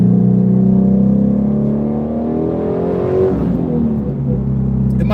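A Ford Shelby GT350 engine revs hard and steadily during a second-gear downshift, heard from inside the cabin with the windows up. The pitch climbs, then drops sharply and settles into a loud, continuous drone.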